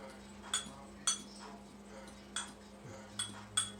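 Spoon clinking against a bowl while mixing garlic powder, pepper and other seasoning for fried green tomatoes, with about six light taps at uneven intervals, soft and close over a steady low hum.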